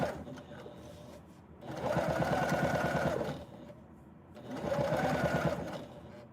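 A sewing machine top stitches the folded binding of a tote bag an eighth of an inch from the edge, running in two steady, loud whirring bursts with a quieter lull between them.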